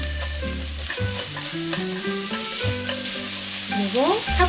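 Carrots and onion are stir-fried with fish cake in a pan under steady sizzling, while a tonal music bed plays loudly over the cooking throughout.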